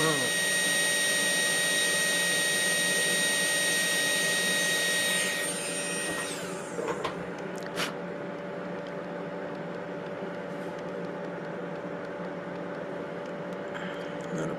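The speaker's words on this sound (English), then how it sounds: "I'm just shaving off the smallest amount." Wood is shaved off a carving with a steady, loud tool whine that runs for about six seconds, then cuts out and leaves a quieter background hum with a few faint clicks.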